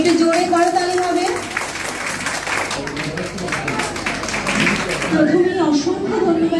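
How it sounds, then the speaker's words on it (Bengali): An audience at a cultural evening celebrating Dadathakur's birth anniversary claps in a steady burst of applause, while a person speaks over a microphone before and after. "একটু জোরে করতালি হবে।"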